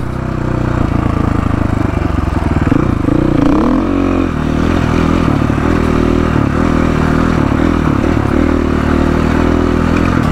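A motorcycle ridden over a washboard dirt road in Mexico, its engine droning loudly and steadily while the chassis clatters and rattles over the ridges, with no one speaking.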